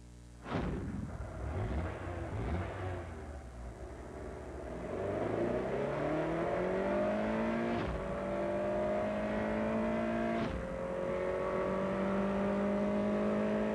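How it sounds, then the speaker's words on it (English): A Honda Prelude VTEC car engine in a 1992 TV commercial revs up through rising tones, with sharp booming hits punctuating the acceleration, loud and without talk. "Introducing the 190 horsepower Prelude VTEC. It's very quick,"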